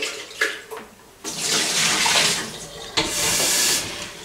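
Water is poured into the jar of a Biochef vacuum blender, a rushing splashing stream in two bursts with a brief pause between, close and fairly loud.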